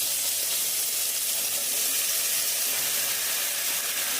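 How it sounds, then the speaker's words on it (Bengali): Shrimp frying in a pan, heard as a dense, even, high-pitched sizzling hiss that stays steady and close throughout with no breaks or talking. "চিংড়ি মাছটা একটু নাড়িয়ে চাড়িয়ে ভাজা ভাজা হয়ে গেলে"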